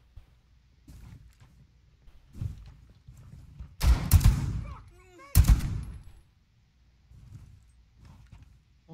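Machine gun fire in the video game Rainbow Six during a terrorist hunt: two loud, close bursts of rapid shots with ringing echoes, separated by quieter thuds and muffled movement.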